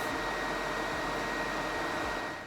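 A hooded salon-style hair dryer runs steadily and close, a constant broadband airy whoosh with a low motor hum and no pauses.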